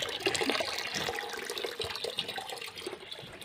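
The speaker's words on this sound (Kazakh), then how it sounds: "Су міне осылай барып тұр." Well water gushing steadily from a pump outlet, a continuous loud splashing flow heard up close with no talk.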